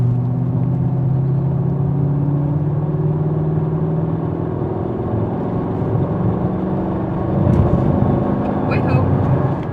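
A car accelerates with a steady whirring drone whose tones slowly rise and fall, heard from inside the cabin over engine rumble, with a brief rattle near the end.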